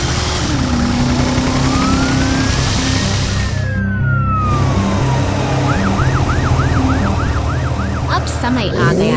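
A police siren wails and then switches to a fast yelping pattern over a loud, steady engine rumble, close and continuous.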